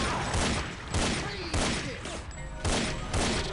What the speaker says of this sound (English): I finally have the pistol